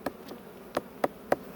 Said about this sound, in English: Oh my god, there's so many bees.